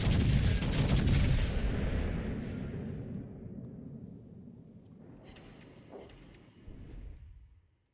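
Naval gunfire in World of Warships: Legends, a loud close boom from a big gun that rolls off into a long fading rumble, followed by a softer distant blast and crackle before trailing away.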